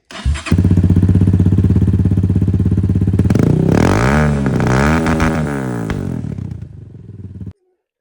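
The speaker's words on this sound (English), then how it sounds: "this is the exhaust without the silencer tip" Loud, raw Honda CRF230F dirt bike exhaust without silencer tip blares nearby, idling hard then revving up several times with a crackling bark before abruptly stopping.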